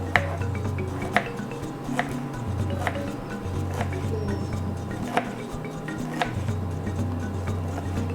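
A knife taps sharply against a cutting board in a steady rhythm, about one slice per second, slicing crushed ingredients close up over a low background hum.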